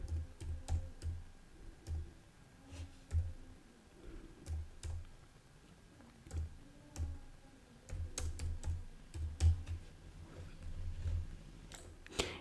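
A phone number is keyed in on a computer keyboard, with sparse, irregular clicks near the mic in short clusters separated by pauses.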